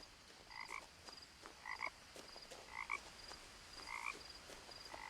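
A frog croaks in the video game What Remains of Edith Finch, giving about five double-pulsed croaks at regular intervals, fairly close and clear over quiet ambience.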